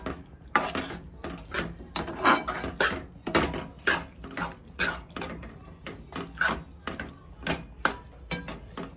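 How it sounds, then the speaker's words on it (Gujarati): Spoon scraping and clinking against a pan while a beetroot and milk mixture is stirred for beet laddu, giving irregular close knocks and scrapes with no talk. "હવે આપણે એમાં દૂધ એડ કરી દઈએ। હવે થોડી વાર મિક્સ કરતા રહીશું।"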